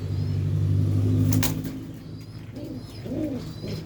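Soft, low pigeon coos repeat over a steady rumbling background, with a brief higher bird call in the middle, as pigeons are handled for feather trimming.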